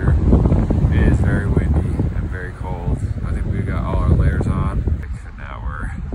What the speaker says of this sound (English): As you can probably hear, it is very windy and very cold.